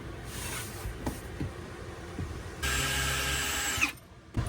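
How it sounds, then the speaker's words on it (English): A power drill drilling pilot holes in wood whirs briefly in steady high-pitched bursts, with small clicks and handling noise before it, then winds down and stops. "I do like to drill these little pilot holes just so I don't accidentally split the wood"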